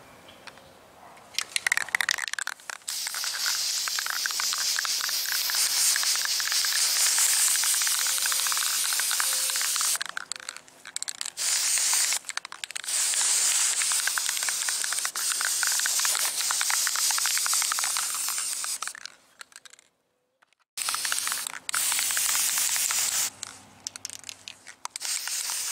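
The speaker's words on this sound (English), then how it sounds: "And now I'll shoot some guide coat on this." A spray gun hisses loudly and steadily as it lays guide coat over car bodywork during dent repair, with brief breaks between passes and a longer pause near the end before spraying resumes.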